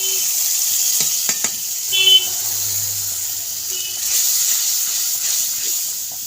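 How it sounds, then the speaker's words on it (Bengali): Ginger, garlic and cumin paste hisses loudly as it hits frying onions in hot oil, a strong continuous sizzle with a few brief clinks and a surge of steamy hiss partway through. "আদা বাটা রসুন বাটা জিরা বাটা সব দিয়ে এবার এগুলোকে কষে দেবো"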